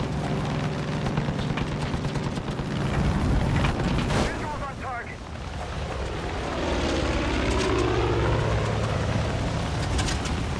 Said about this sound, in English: See if we can get out of this plane while it still runs.